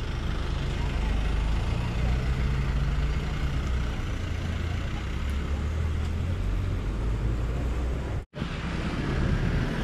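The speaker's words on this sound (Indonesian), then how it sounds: "Ada bis kita juga nih." Steady roadside traffic rumble with a heavy vehicle's low engine drone, a city bus in Bogor passing close and loud, with a brief dropout near the end.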